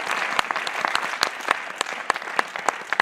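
An indoor audience applauds exhibitors at a closing ceremony in Hendaye, the dense clapping steady and moderately loud with sharper individual claps standing out throughout.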